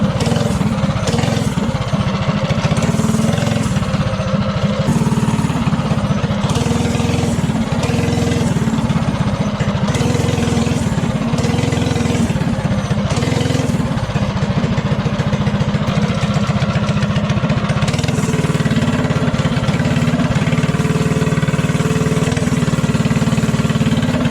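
Homemade propane-powered mini bike engine running loud and close, a rough, buzzing small-engine drone that rises and falls in pitch as the throttle is worked, continuous throughout without speech.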